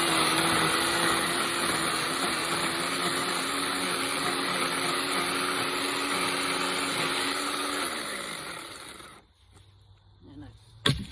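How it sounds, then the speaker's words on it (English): A Ryobi chainsaw, a couple of years old, drones steadily and loud up close for about eight seconds, then winds down and cuts out, leaving a quiet stretch ending in a sharp knock. "using the chainsaw, I don't know if you guys can see, it works really well"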